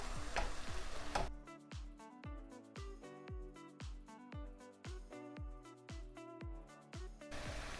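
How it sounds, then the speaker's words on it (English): Ground chicken frying in a pan and being broken apart and turned with a utensil, heard as a steady rhythmic series of sharp taps and scrapes over a soft sizzle. "So I'm going to keep breaking this apart, turning it."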